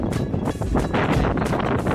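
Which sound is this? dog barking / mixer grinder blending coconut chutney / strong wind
strong wind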